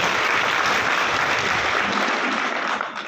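A crowd at a Janmashtami festival gathering in Mahendragarh breaks into loud, steady applause, dense hand-clapping filling all three seconds without a pause and tapering slightly at the end.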